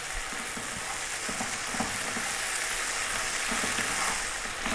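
Onions for a restaurant-style lamb curry fry in a pan with a steady, broadband sizzle, continuous and even throughout, with faint low clinks of stirring underneath and no talking.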